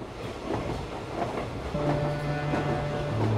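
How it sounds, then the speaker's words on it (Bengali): A night train runs through forest as a story sound effect: a steady rumbling roll with faint rhythmic clatter of the carriages, and a sustained tone rising in partway through. "রাতের ট্রেন বন জঙ্গলের বুক চিরে ছুটে চলেছে।"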